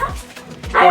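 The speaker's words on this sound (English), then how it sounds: "Don't mind the dogs." Dogs bark indoors in the background of a home, a couple of short yips and woofs followed by a louder, sustained burst near the end of the second.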